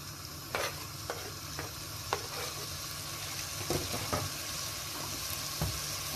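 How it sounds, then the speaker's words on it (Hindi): Shredded cabbage tossed into a frying pan and stirred for a chicken cheese pasta, a steady soft sizzle running throughout with scattered sharp scrapes and taps of a spatula, close by. "अब हम इसमें बंद गोभी डाल देंगे"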